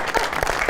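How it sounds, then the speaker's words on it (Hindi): A television talk show's studio audience bursts into applause, a dense, loud clatter of many hands that lasts under a second. "बहुत सारी तालियां जी।"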